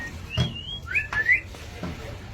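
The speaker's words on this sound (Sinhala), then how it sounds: "ආයි විසිල්ලක් ගන්න." A young pet parrot whistles a few short rising and falling notes, close and clear, separated by soft thumps and quiet gaps.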